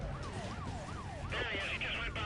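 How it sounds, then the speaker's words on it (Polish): In the video game Need for Speed: Most Wanted, a police siren wails in rising and falling sweeps, then a second police car's higher siren joins with a fast warbling pattern over a steady engine rumble. "Jest kolejny radiowóz."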